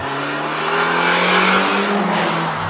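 A BMW M3 engine revs up toward redline, a rising, loud, smooth engine wail with a strong harmonic tone building over a couple of seconds, heard near and without speech.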